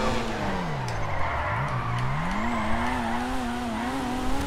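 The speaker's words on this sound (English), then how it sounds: "this thing is a pure race car. I mean, sounds like a pure race car even though it's not a race car." Toyota Supra engine in GTA 5, racing at high revs with a loud wavering drone that dips and climbs through gear changes, tires squealing faintly underneath, close and steady.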